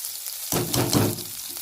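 Onions frying in a pan give a steady sizzle that jumps louder about halfway through, then crackles on evenly with no one talking.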